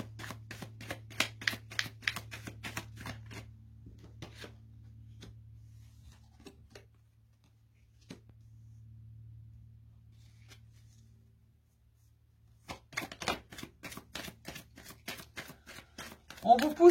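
Tarot cards are shuffled and drawn for a Capricorn reading, quick papery riffles at the start and end with a quiet stretch between, close and soft, a low hum underneath and a voice speaking.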